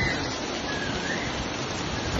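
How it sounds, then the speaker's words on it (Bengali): Heavy rain falls in Dubai, a steady, even wash of hissing water close by, continuous and unbroken for the whole moment with nobody speaking. "দেখো কেমন বৃষ্টি ঝড় হচ্ছে"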